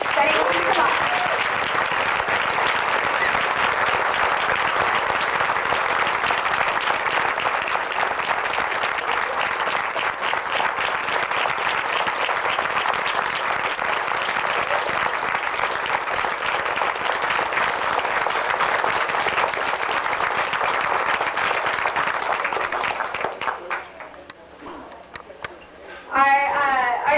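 Sustained audience applause at an award dinner fills the room steadily for over twenty seconds, then thins and dies away near the end, where a few voices and scattered claps remain.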